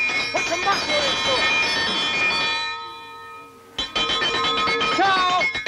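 A metal chow bell rung hard to call people to eat, its sustained bright ringing tones filling most of the clip, fading briefly, then clanging again loudly with voices mixed in.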